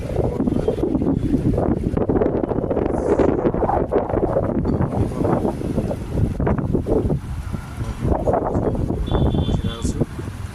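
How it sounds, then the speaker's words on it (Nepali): Wind gusting by the Bagmati river, a loud rough rushing buffet against the microphone that rises and falls continuously, with a voice talking over it. "हावा पनि चलिरहेछ"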